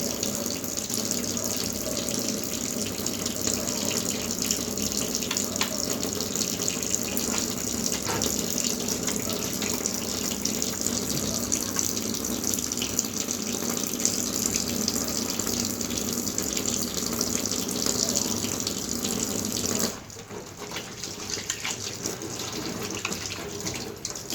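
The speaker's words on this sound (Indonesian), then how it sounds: "kita lakukan cuci tangan dulu. Kita lakukan 5 langkah cuci tangan." Hands are washed under a running tap before a prenatal physical examination. Loud, steady gushing water runs continuously for about twenty seconds, then the flow changes and becomes quieter near the end, with no talking.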